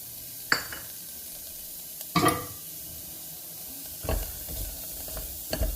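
Raw onions hit a hot, dry pan with no oil, giving a few short bursts of sizzling and stirring scrapes spaced across the moment, close and moderately loud, with no talking.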